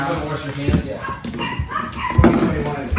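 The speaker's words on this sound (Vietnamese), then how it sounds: "Mấy con chó bị nhốt ở trên kia." Dogs shut away upstairs bark and yip in muffled bursts, somewhat distant, mixed with thumps and people talking nearby.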